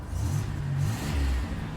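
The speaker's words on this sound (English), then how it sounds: "You can hear that turbo right there." A car engine with an upgraded turbo revving briefly, a low rising and falling engine drone up close with a faint airy whoosh above it, no talking.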